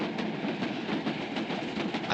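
Rhythmic clatter of a crack passenger train running on rails, a steady rolling clickety-clack with no voices, heard as a recreated 1942 radio drama sound effect.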